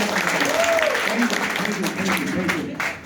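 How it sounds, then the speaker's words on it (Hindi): An audience at a gathering gives a burst of steady clapping that continues while a speaker talks over it. "एक बार जोरदार ताली"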